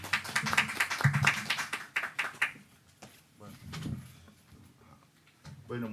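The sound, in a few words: audience applause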